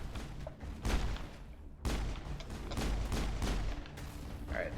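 Pistol shots ring out in the video game Mass Effect, with several sharp cracks over a few seconds amid continuous combat noise, loud and close.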